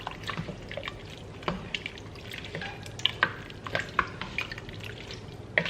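Food being stirred in a big pot on a home stove, soft close scraping and liquid sloshing with irregular clinks of the spoon against the pot, no talking.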